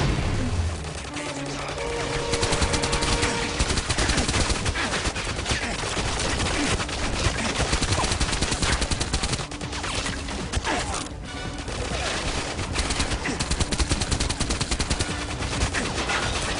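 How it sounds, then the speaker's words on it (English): A firefight in GoldenEye 007 Reloaded: dense, continuous automatic gunfire with loud crashing impacts over a steady game soundscape, with no gaps for the whole stretch. "chooses a non-silenced weapon, then the chances are they will get into an all-out firefight with the enemy"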